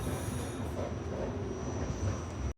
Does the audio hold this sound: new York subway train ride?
yes